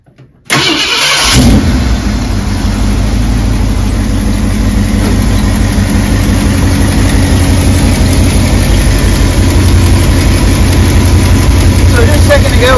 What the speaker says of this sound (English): So let's fire it up for you guys.